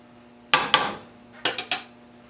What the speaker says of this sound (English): And give her a little stir, get all that mixed up.